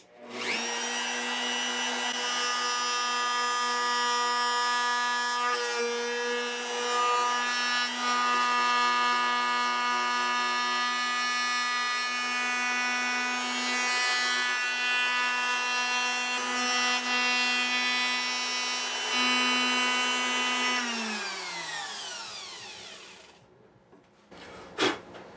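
A power saw cuts a saddle slot into an acoustic guitar bridge, a steady high whine with bright harmonics running for about twenty seconds before spinning down to silence.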